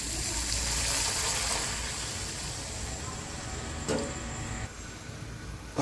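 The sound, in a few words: water being added to a cooking pot for upma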